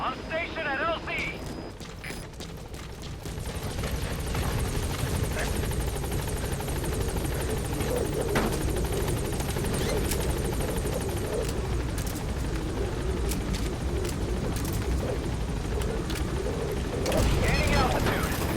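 Pequod, the transport helicopter in Metal Gear Solid V, arrives at a landing zone with a steady, loud rotor and engine roar that persists throughout, beneath game voices and occasional combat noise.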